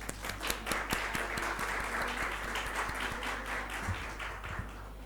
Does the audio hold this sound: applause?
yes